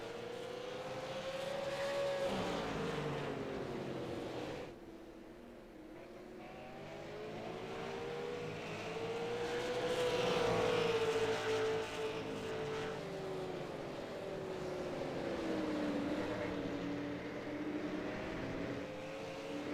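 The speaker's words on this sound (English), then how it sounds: "As you see the number 2 machine, John DeMeester, dive to the inside wall, allowing your 2 race leaders to pass." Super late model race cars in a sim racing game roar in a continuous close engine drone whose pitch rises and falls with acceleration and lifting, no speech over it.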